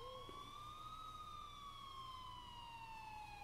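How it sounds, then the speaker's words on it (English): A police siren wails faintly in the distance, one slow, drawn-out tone that rises and then sinks gradually, heard alone against a quiet background. "until I finally heard sirens in the distance"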